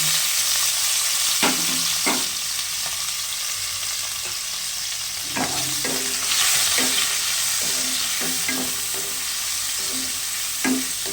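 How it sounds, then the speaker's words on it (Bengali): Prawns, salted and coloured with turmeric, frying in oil in a wok, a steady loud sizzle broken by scattered sharp spatula scrapes and stirs throughout, with no talking. "কড়াতে তেল দিয়ে দিয়েছি এবার চিংড়ি মাছটা ভেজে নেব"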